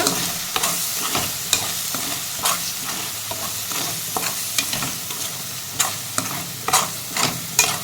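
Chilli powder for egg curry sautéing in a pan, a steady sizzle punctuated by regular sharp scrapes and taps of a spatula, close and unaccompanied by speech.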